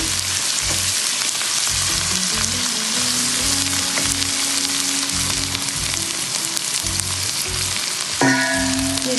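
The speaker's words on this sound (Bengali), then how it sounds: "মশলাটা কেন কিন্তু এখন ভাজা ভাজা ভুনা ভুনা হবে" Spice paste for a chicken and potato curry fries in oil, giving a steady, loud, dense sizzle throughout with occasional stirring scrapes and a brief tonal clink near the end.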